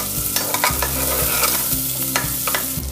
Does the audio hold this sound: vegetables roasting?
yes